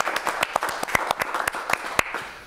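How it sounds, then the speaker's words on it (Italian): Studio applause effect on an Italian TV football talk show, Piazza Pallone: light, fairly sparse clapping with sharp individual claps in a steady patter, moderately loud and heard alone. "applauso."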